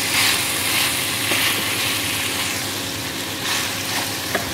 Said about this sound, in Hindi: फिर इसे अच्छी तरह दाग लगने तक भूनेंगे।